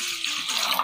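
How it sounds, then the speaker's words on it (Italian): Water pours into a kitchen bowl for bread dough, a brief, even splashing trickle heard close up with nothing else over it. "Inseriamo l'acqua in un recipiente."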